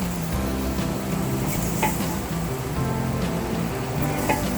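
Hamburger patties cooking on an outdoor grill, a steady close sizzle and crackle running without pause and with no talking.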